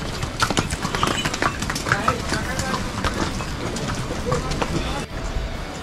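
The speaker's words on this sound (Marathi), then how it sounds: "असे घोडे" Horses plod along the rainy Kedarnath pilgrimage trek, hooves clip-clopping in an uneven close rhythm of many steps, with people talking over the steady trail noise.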